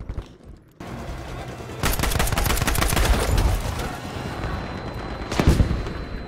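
A Swedish AG-42 rifle fires in Battlefield V amid a noisy battlefield, with a dense run of rapid, sharp gunshots over a constant rumbling background and a louder blast near the end.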